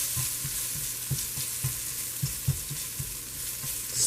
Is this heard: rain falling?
no